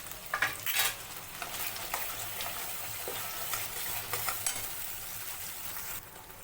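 Masala with ground paste, chili powder and turmeric fries and is stirred in a pan for mutton gravy, a continuous close sizzle with scraping bursts of the spoon, no voices.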